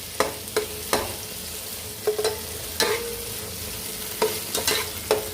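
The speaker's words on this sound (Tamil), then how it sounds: "நல்லா கிண்டி விட்டுருங்க" Tomato masala with coriander and mint being stirred in a pan, a steady low sizzle punctuated by a series of sharp spatula scrapes and knocks against the metal, close and alone.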